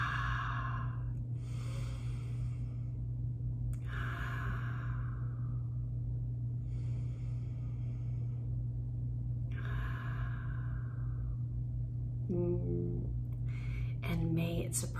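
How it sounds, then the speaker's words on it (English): Three slow, gentle deep breaths come in turn, each a soft airy exhale close to the microphone over a steady low background hum. "Let's take 3 gentle breaths together."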